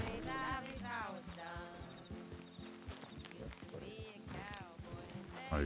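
A horse in Red Dead Redemption 2, quiet clip-clop hoofbeats under spoken commentary.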